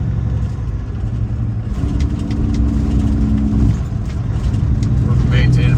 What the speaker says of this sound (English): I'm going to drop another gear.